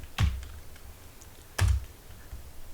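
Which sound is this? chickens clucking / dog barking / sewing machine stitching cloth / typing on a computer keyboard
typing on a computer keyboard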